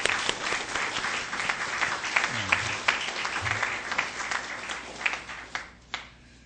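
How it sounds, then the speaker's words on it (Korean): An audience at a national pastors' fellowship gathering held at a seminary bursts into sustained applause, dense clapping filling the room for several seconds before tapering off near the end. "박수 한번 합시다"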